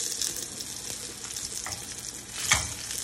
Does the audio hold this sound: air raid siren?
no